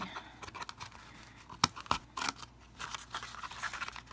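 Scissors snipping through stamped card, a quiet irregular series of crisp cuts with a couple of sharper snaps near the middle, close by and without speech.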